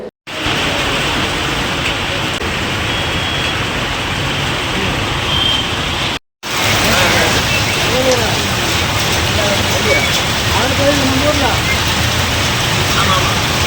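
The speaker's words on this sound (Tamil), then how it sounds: "திண்டிவனம் உள்ளிட்ட சுற்று வட்டார பகுதிகளில் திடீரென பலத்த மழை பெய்தது." Sudden heavy rain pouring down around Tindivanam, a dense steady hiss of downpour filling the scene with a brief dropout, voices faintly under it.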